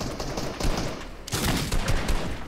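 Gunfire in a Fortnite-style zone wars game, rapid bursts of shots in two clusters separated by a brief lull, loud and close with no talking.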